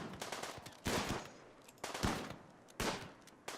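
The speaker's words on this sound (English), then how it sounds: "You four instead, minus Iris, are going to fire at the hive, fire at the hive, fire at the hive" Bursts of automatic gunfire aimed at an insect hive in the colony-sim video game RimWorld, rapid rattling volleys that come and go, loud and close, with no talk over them.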